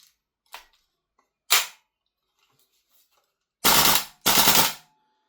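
Tokyo Marui AKM airsoft gun with its stock recoil spring firing, heard as two faint single clicks and then two loud, dense full-auto bursts of about half a second each, close up with no talk.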